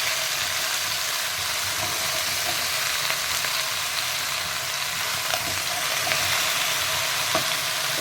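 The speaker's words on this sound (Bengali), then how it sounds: "একটু ভালো করে নেড়ে নিলাম।" Chopped bell pepper stir-fries in a pan, a steady close sizzle and crackle with occasional stirring scrapes, no one speaking.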